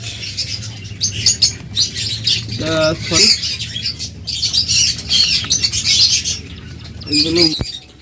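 A pair of cockatiels chirps and squawks in bursts, close and fairly loud, with short wing flutters between calls and other cage birds in the background.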